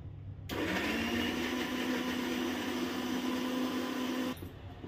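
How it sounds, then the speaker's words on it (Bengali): A mixer grinder whirs steadily for about four seconds as it grinds gondhoraj lemon, ginger, garlic and green chili into a paste. The motor hum is loud and close, starts and stops abruptly, and no one speaks. "আদা রসুন কাঁচা লঙ্কা, এটা পিস মানে মিক্সিতে একটু বেটে নেবো, পেস্ট করে নেবো"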